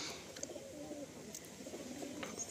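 Ablook breed pigeons in a loft give soft low cooing calls, faint and somewhat distant, with a few brief higher chirps over quiet background.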